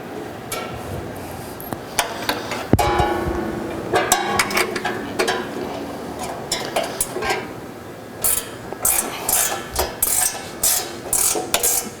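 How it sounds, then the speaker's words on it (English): A 7/16 gear wrench ratchets two bolts loose from a guard on a machine, giving bursts of quick metallic clicking, with a louder run of short, evenly spaced ratchet strokes near the end and no talk. "This is done with a 7/16 gear wrench, or a socket and ratchet would also work."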